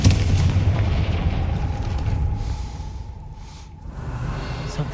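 A Confringo blasting spell in Hogwarts Legacy goes off as a loud, deep explosion right at the start, trailing into a long rumbling decay with a faint tonal whine and scattered crackles.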